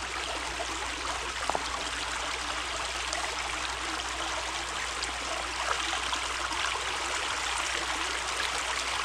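Water runs steadily through a gold sluice washing rock and dirt, a constant close rushing trickle with no talk, holding at even loudness throughout.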